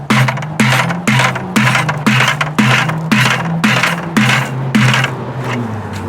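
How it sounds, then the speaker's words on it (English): Mallet striking nested 5 gallon plastic pails to knock them apart: about ten loud, hollow, ringing bangs in a steady rhythm, close by with no talking. "I use it to strike the pail to get it apart."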